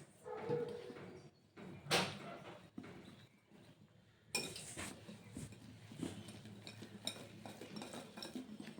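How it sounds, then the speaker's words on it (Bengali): A hand whisk beats eggs, sugar and flour into cake batter for a beetroot cake, giving scattered metallic clinks and scraping against the bowl, with a couple of sharp louder knocks, all fairly soft and close. "আমি একটা হ্যান্ড উইক্স নিয়েছি, এই হ্যান্ড উইক্স দিয়ে সুন্দর করে দেখুন একটা স্মুথ ব্যাটার তৈরি হয়ে গেছে।"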